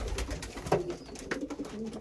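Tiger Grizzle racing pigeons cooing softly inside a loft, with low murmuring coos and faint wing and bird movement scattered through a steady background.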